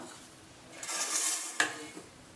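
Ground rice flour being sifted through a sieve in a home kitchen, giving soft, brief scraping and rustling with a light tap or knock of the sieve, fairly quiet and close, with no talking.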